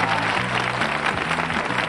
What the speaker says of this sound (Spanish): Señores del público, darle un aplauso.